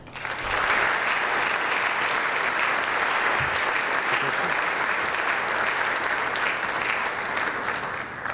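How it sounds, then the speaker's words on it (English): Sustained applause from a crowd at a general assembly meeting, steady and dense throughout, with clapping that swells in at the start and holds at an even level. "Let's give them a round of applause."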